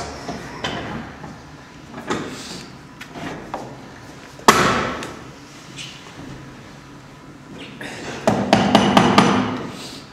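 A chisel is struck with a mallet to cut a lock mortice in a door edge held in a vise, several sharp knocks spread out, then a quick cluster of rapid taps near the end.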